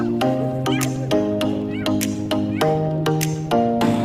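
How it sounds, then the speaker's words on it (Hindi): Cat meowing repeatedly in short, loud, close cries, one after another in a steady rhythm, with voices faintly in the background. "ये देखो गाइस, ये देखो बिल्ली निकलती क्यों नहीं।"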